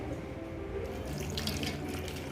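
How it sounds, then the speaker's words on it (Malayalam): Water pours steadily and close by onto ragi powder, a continuous splashing stream with no pauses. "വെള്ളം ഒഴിച്ചിട്ട്"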